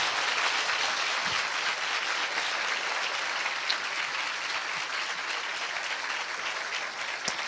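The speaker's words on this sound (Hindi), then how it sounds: "आइए हम अपने आदरणीय पास्टर जी के लिए एक अच्छी ताली बजाएं।" A church congregation applauds their pastor, with dense, steady clapping filling the room from start to finish at an even loudness.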